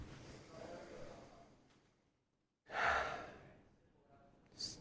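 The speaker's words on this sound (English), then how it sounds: "take a second and breathe through your nose" A single slow breath drawn in through the nose, soft and close, following a stretch of quiet speech and a brief silence, with another faint breath toward the end.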